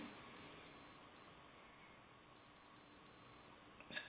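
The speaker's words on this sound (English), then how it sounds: "this light and this beeper will fire when it detects metal" A high electronic beeper on an Arduino beat-frequency metal detector sounds over a coin in short pulses and longer tones, two clusters of beeps separated by a quiet gap, faint but distinct over a soft hum, then a small click.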